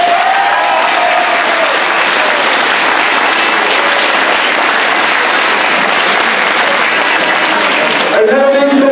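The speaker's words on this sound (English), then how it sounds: "I should get a round of applause." Loud round of applause from an audience at a sports team's end-of-year gathering: dense continuous clapping for about eight seconds that stops abruptly as a voice begins.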